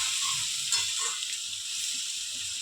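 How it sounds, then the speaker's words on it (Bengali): Garlic frying in a pan with oil while being stirred for mixed rice, a steady close sizzle with faint scraping of the stirring, no talk. "এবার রসুনটা ভাজবে।"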